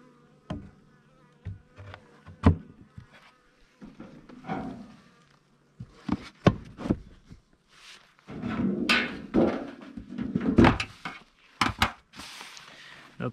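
Honeybees buzzing around wooden beehives during a hive inspection, with intermittent buzzing bursts mixed with knocks and handling clatter, close to the listener.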